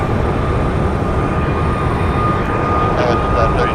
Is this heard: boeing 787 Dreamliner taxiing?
yes